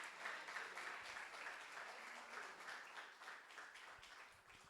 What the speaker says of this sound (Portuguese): Queria que a igreja aplaudisse a Jesus Cristo por o culto de hoje.